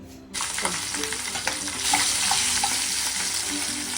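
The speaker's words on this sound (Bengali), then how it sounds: "তো সর্ষে পাবদা মাছটা এখন ভাজবো" Pabda fish, prepared with mustard, fries in a pan on the stove. A close, busy sizzle crackles and spits throughout and grows slightly louder partway through, with no talking.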